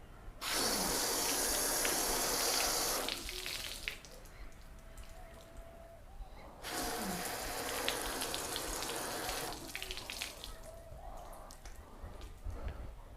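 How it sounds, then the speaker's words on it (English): Water sprayed over sealant-coated car panels in two long bursts of loud, close hiss, each running about three seconds, with quieter dripping and trickling between and after them. "let's give this a rinse down and see which one is giving us the best water behaviour"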